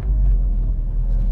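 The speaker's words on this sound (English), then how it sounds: "This thing is ferocious. Especially from a three-cylinder engine." A 2023 Mk8.5 Ford Fiesta ST's three-cylinder engine rumbles with a steady, loud, low drone throughout, up close and with no voices over it.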